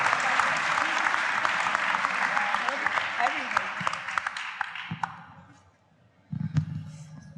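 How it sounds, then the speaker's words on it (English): Conference audience applauding the Lieferando managing director Katharina Hauke at an e-commerce event, steady dense clapping that fades out, then a short burst of voices after a brief lull. "Big round of applause for Katharina Hauke."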